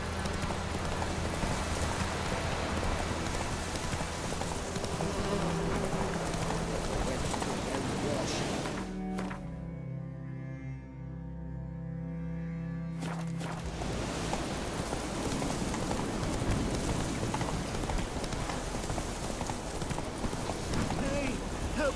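The horse Roach galloping in The Witcher 3: Wild Hunt, a continuous rapid clip-clop of hooves on a road under a dense bed of game ambience, briefly cut off midway before resuming.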